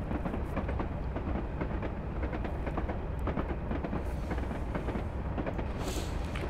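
A Class 37 diesel locomotive running on rails on the Weardale and Teesdale network, heard from aboard as a steady low rumble with rhythmic wheel clicks over rail joints, fairly faint and continuous.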